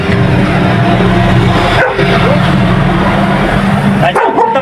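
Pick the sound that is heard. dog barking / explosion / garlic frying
dog barking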